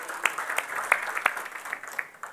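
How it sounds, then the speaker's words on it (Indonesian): A church congregation claps during a sermon. The clapping is fairly quiet and uneven, with scattered sharp individual claps standing out over a soft, continuous patter. "Beri tepuk tangan buat Tuhan Yesus."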